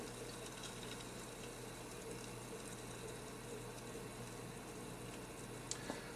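Water flushing steadily out of an opened valve at the bottom of a Spirotherm air and dirt separator on a hydronic display rig, a continuous close hiss with no talk.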